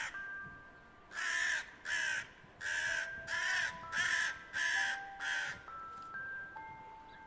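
A crow caws and squawks in a run of about eight harsh, evenly spaced calls, loud and close, while a faint high tinkling tone lingers in the background.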